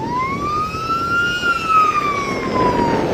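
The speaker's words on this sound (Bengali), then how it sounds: "সাইরেন দিচ্ছে" A boat siren on the river near Umananda island, the Peacock Island of Assam, gives a loud, sustained wailing tone that rises and slowly falls, with harmonics above it over a low engine hum.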